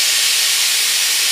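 A pressure cooker holding rice, water and soya chunks vents steam in a steady, loud hiss that holds unbroken and close throughout, with no talking.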